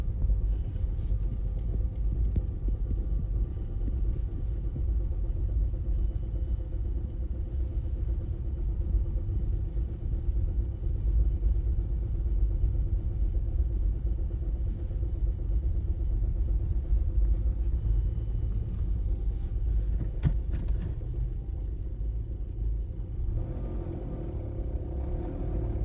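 A car idles steadily nearby on a road during a horse hacking ride, a low continuous engine rumble that holds throughout with no talk over it.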